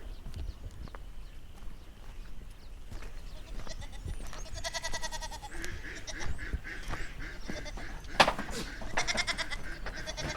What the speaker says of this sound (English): Now let's go see inside the goat camp.